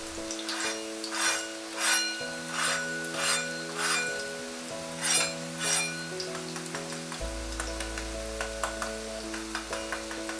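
A veg burger patty crisping in a hot pan, a close steady sizzle with soft clinks of utensils, under sustained background music tones and no speech.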